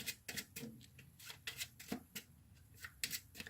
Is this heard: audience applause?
no